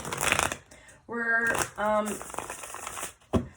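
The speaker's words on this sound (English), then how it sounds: "I'm just going to do like 2 more shuffles here." A deck of tarot cards is shuffled in a couple of quick riffling bursts, close and crisp, with a voice speaking around them.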